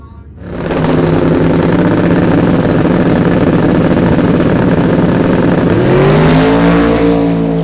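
A drag race car making a full pass at Drag Week: the engine roars up loud and sustained after a brief idle, then shifts, with rising harmonics near the end, close and dominant throughout.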